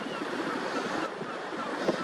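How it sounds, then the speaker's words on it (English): Strong wind blows hard across the microphone at the shore, a steady roaring rumble over the sound of breaking surf. "the wind, because it is howling, the wind was blowing, and it was blowing my camera to the right"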